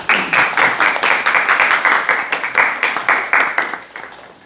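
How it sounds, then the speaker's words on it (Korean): Audience applause at a lecture on modern art and modern civilization: steady, fairly close clapping from a modest crowd, rhythmic bursts that gradually fade out toward the end. "한번 큰 박수 한번 보내주시죠"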